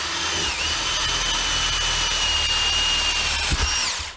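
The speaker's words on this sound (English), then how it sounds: "now we're going to drill our pilot hole right here" A power drill whines steadily at high speed for a few seconds, loud and close, boring a pilot hole for recessed lighting, then winds down at the end.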